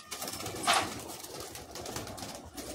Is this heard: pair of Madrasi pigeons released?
yes